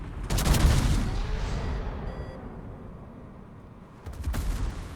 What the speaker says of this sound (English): Shots from the Richelieu.